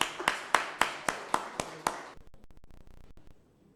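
A church congregation claps in a quick burst of about eight sharp claps, then trails into scattered softer claps that fade out, moderately close and without talk.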